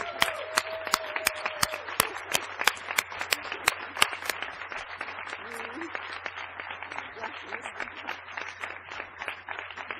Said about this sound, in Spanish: por eso ustedes se merecen el mayor aplauso